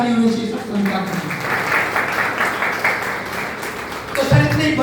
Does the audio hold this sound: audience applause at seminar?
yes